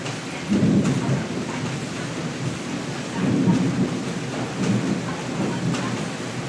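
Deep rolling thunder rumbles in several swells over steady rain, with low booming surges rising and fading.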